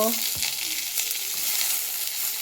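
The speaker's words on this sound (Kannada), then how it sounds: "ಮತ್ತು ಪುದೀನ ಮತ್ತು ಕೊತ್ತಂಬರಿ ಎಲ್ಲ ಸೇರಿ ರೋಸ್ಟ್ ಮಾಡೋಣ." Tomato, mint and coriander roasting together in a pan for a chicken curry make a constant close, hissing sizzle, with a few soft stirring scrapes breaking in near the start.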